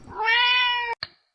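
A single close cat meow, long and drawn out with a rising-then-falling tone, followed by a short second chirp-like call.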